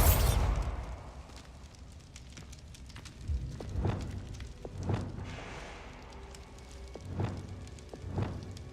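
Blasting Bombarda spell explosions in Hogwarts Legacy: a series of sharp booming bursts roughly every second or two, each with a rumbling low tail, over continuous game background noise.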